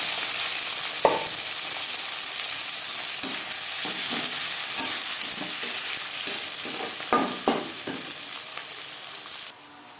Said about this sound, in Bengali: মাছ ভেজে নেওয়া তেলে দিয়ে দেবো পেঁয়াজ টমেটো